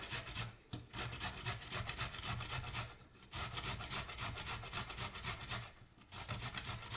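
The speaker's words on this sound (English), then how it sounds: "everything I would grate everything, just like so" Vegetables are grated by hand, heard as rhythmic rasping strokes in quick, steady succession with brief pauses between runs, close and fairly loud with no talking.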